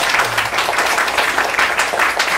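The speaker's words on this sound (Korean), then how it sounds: "이 부분은 박수를 한번 크게 치셔야 될 것 같아요" Audience at a back-pain and muscle-chain relaxation forum breaks into loud, steady applause, dense overlapping claps filling the room for a couple of seconds with no talk over it.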